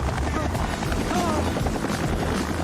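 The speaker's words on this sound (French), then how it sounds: "lorsque l'hélico atterrit comme ça" A helicopter lands in a rescue landing zone near trees, its heavy rotor thrum and engine roar filling the clip loudly and continuously, with no clear talk over it.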